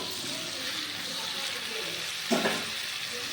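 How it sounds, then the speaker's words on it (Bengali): Chopped ridge gourd and okra stir-fried in a pan, a steady soft sizzle throughout with a brief louder scrape and hiss of stirring near the end. "কেটে রাখা ঝিঙে ঢেঁড়সটা দিয়ে দিলাম এরপর আমি খুব ভালোভাবে এটাকে নেড়ে চেড়ে একটু কষিয়ে নিই"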